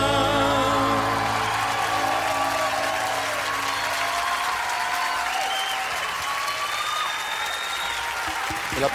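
Audience applause breaks out at a live cumbia performance, a steady, dense wash of clapping that stays loud and close for the whole stretch, with music tones fading underneath.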